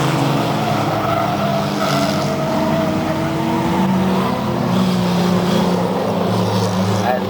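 Saloon race cars, including Mark 1 Cortinas and a Triumph, racing at Bovingdon Raceway: a steady, continuous engine roar with shifting pitch as the cars pass, with a commentator talking throughout.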